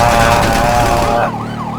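Police siren in Grand Theft Auto 5, a loud close wailing tone that rises and falls, then fades lower with softer sweeping warbles, without talk.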